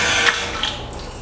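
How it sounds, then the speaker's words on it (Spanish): Water runs from a tap as it is turned on before handwashing, a steady close hiss with faint clicks and no speech. "Abrimos la llave del agua."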